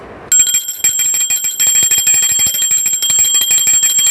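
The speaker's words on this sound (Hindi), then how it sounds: "आरती में घंटी का ध्वनि ज़रूर होना चाहिए।" A small hand bell rung continuously during Navratri aarti worship at a home kalash sthapna, bright, loud and close, with a rapid steady ringing that runs from just after the start to the end.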